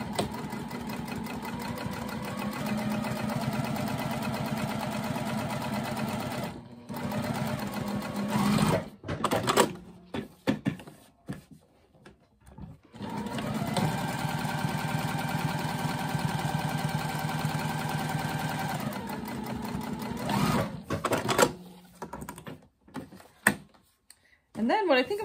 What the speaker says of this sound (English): I'm going to go to the machine and I'm just going to top stitch right along the top of both of them.